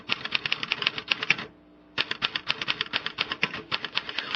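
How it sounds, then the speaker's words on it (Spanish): A manual typewriter clatters in rapid, uneven bursts of sharp key strikes, stopping briefly for about half a second before resuming its steady, close rhythm, with no voices. "se inventan la máquina de escribir, y con la máquina de escribir empieza a abrirse el paso para el periodismo"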